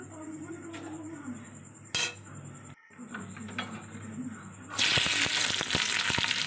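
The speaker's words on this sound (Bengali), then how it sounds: "এবার এটাকে একটু নেড়ে নেব, লঙ্কাটা তেল ছেঁকে তুলে নেব।" Dried red chillies fry in hot oil with black cumin seed as a utensil clinks and scrapes the pan, quiet at first, then a loud close sizzle bursts up in the final seconds.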